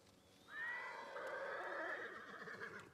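Horses whinny loudly in the game Ghost of Tsushima, one long rising and falling neigh with a faint higher call before it, alone with no talk.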